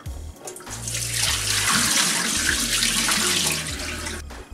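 Cold tap water runs over rice being rinsed for lamb pulav, a close, loud splashing gush that builds quickly, holds steady for several seconds and then cuts off.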